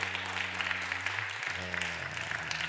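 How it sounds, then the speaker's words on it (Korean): A church congregation claps steadily throughout a year-end Sunday service, a dense even applause with a low sustained musical tone underneath. "힘차게 박수"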